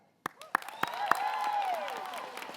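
An audience at a children's university graduation ceremony in Manawatū claps after a name is read, starting with a few sharp separate claps that swell into steady, moderately loud applause.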